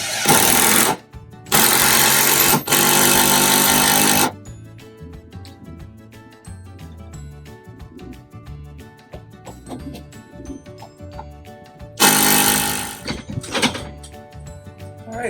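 A power tool drives self-drilling galvanized lag bolts into an awning mount in loud, harsh bursts of grinding and rattling. Three bursts of a second or two each are separated by quieter stretches of clanking and handling noise.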